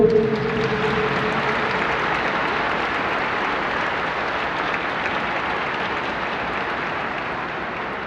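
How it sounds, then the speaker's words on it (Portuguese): A congregation in a cathedral claps for the bishop during a Mass marking the 62nd Infantry Battalion of Joinville's centenary, a steady, dense wash of applause that keeps going evenly throughout. "Uma salva de palmas ao nosso bispo."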